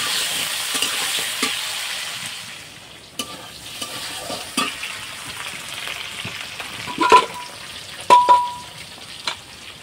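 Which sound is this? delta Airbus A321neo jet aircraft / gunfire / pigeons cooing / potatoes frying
potatoes frying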